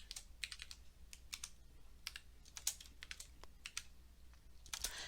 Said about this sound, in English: Type in the module number and the assignment number.